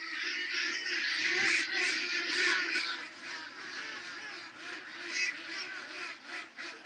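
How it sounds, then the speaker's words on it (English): A large flock of ducks quacks and chatters nonstop, a dense overlapping racket at moderate distance that swells and dips with no clear pauses. "Yeah, that's a mess of ducks."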